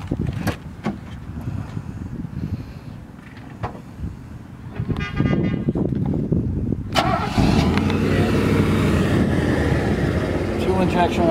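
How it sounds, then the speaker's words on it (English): People talk over a low rumble, then a fuel-injected 1983 Mercedes-Benz 380SL engine turns over and catches, settling into a steady running sound nearby. "Why don't you fire it up, Mike?"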